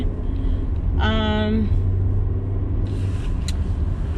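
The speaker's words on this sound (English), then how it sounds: "So right now I'm just kind of driving up the street" A 2020 Ford Explorer ST drives up a snowy street, giving a steady low engine and road rumble throughout, with a brief tonal chime-like sound near the start.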